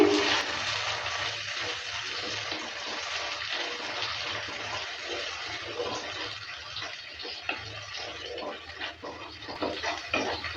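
Water is poured into a mustard spice paste for a Bengali fish curry and stirred, giving a soft, close splashing and sloshing with faint irregular clinks throughout.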